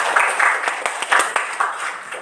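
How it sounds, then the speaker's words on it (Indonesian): A small classroom group claps during a teaching performance assessment in Indonesia, a brief patter of hand claps with uneven rhythm, close and moderately loud, fading quickly. "Berikan aplaus dulu"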